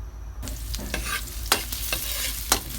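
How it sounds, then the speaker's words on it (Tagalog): Ginger, onion and garlic sautéing in a pan, a loud close sizzle with brisk stirring scrapes and a few sharp utensil knocks against the pan. "Siyempre, ingredients natin, luya, sibuyas at bawang. Gisa muna natin."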